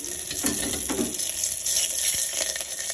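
Jowar (sorghum) frying in a pan gives a steady, close sizzle with a few brief stirring scrapes over the top.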